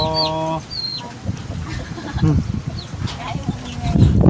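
Chickens clucking around a rural Thai house, with a rooster-like call near the start and scattered cackles over outdoor background noise and occasional voices.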